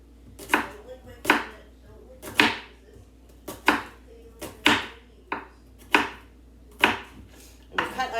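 Knife chopping onions on a cutting board in a home kitchen, about a dozen sharp, crisp chops in an uneven rhythm, close and clear with no talking.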